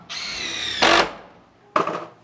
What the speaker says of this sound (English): I always like to screw these soffits just because they are hanging from the ceiling